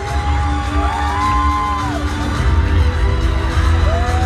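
Audience at a Thai market beauty pageant's swimwear round screams and cheers, with shrill whoops rising over a loud, steady crowd din throughout.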